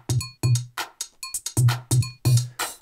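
A punchy drum loop with a bright cowbell repeats in a tight, rhythmic pattern: deep kick hits alternate with crisp clicks and ringing metallic tones, clear and up close.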